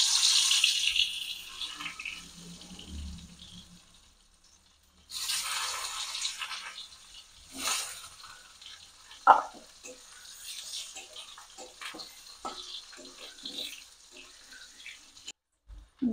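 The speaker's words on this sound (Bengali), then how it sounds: "তারপর আলুটাকে ভেজে নিতে হবে।" Potatoes frying in oil for a dhaba-style egg curry, a hissing, bubbling sizzle that swells and fades with occasional pops and utensil clicks, close and moderately quiet, with some talking.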